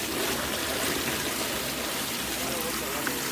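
Water runs steadily out of a pipe, a continuous broadband rushing and trickling that stays even and fairly loud throughout, with no talking over it.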